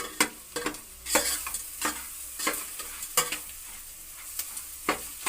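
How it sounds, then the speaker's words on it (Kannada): Potatoes frying and being stirred in a pan for an Indian potato side dish, a soft continuous sizzle broken by repeated scraping strokes of a spoon against the pan at an irregular rhythm, close and with no voices. "ಆಲೂಗೆಡ್ಡೆ ಹಾಕಿದ್ದೀನಿ, ಚೆನ್ನಾಗಿ ಹುರ್ಕೊತಾ ಇದ್ದೀನಿ"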